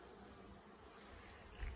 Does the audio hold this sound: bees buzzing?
yes